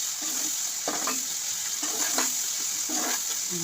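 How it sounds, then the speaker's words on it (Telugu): Onions fry in a pan with a little salt for a mushroom curry, giving a steady close sizzle broken by several soft scraping stirs at a loose, repeating rhythm, with no talking. "జస్ట్ కొంచెం వేస్తే తొందరగా ఆనియన్స్ అనేవి ఫ్రై అవుతాయి అన్నమాట"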